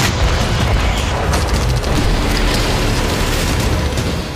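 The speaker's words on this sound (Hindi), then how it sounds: "कुर्स्क की जमीन पर हो रहे धमाके तो पूरी दुनिया को नजर आ रहे हैं" Explosions in Kursk during wartime, a dense, loud, continuous rumble of booms and blasts with no clear gaps.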